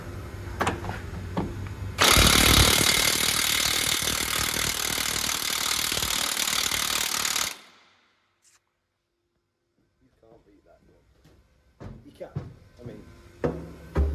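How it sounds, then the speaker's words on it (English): A Milwaukee 1/2-inch battery impact gun working on spring pin bolts of a Scania truck, a loud sustained burst of hammering for about five seconds that cuts off abruptly, followed by quiet and then scattered clanks and movement. "Do you reckon the 1/2-inch Milwaukee's got the power to undo them spring pin bolts?"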